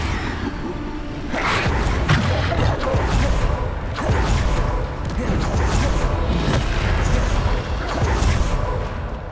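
Bombarda blasting spell detonating in Hogwarts Legacy battle, loud booming impacts and crashes repeating across a dense, continuous combat soundscape with whooshes, a voice talking intermittently over it.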